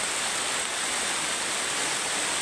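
Heavy rain falls outdoors as a dense, steady hiss. The wash is loud and unbroken, with no voices over it.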